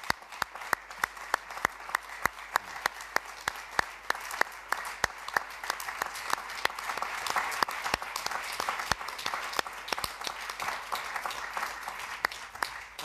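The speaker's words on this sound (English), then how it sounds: "I would like to give a round of applause to appreciate it." Audience applause at a panel discussion in Zermatt, a dense steady clapping from a room of people lasting throughout, with sharp individual claps standing out over the continuous wash and no talk.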